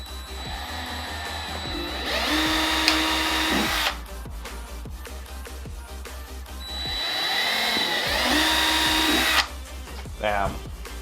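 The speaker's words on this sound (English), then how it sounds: "I'm just gonna send it and drill right through this thing." A power drill bores through the front bumper of a Subaru WRX STI to mount APR carbon fiber canards. It makes two separate rising, whining bursts of several seconds each, with handling noises and short pauses between them.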